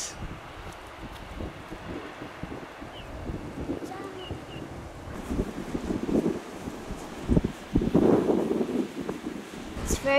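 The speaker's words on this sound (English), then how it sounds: "Very stormy and windy up here." Gusty wind buffets outdoors with rising and falling roars, growing stronger toward the end, with a rustling, blustery texture.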